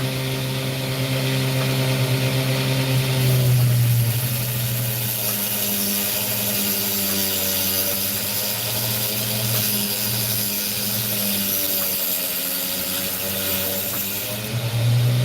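A cutting saw slices through an opal, holding a continuous loud whining drone with shifting pitch for the whole stretch, strongest near the start and end.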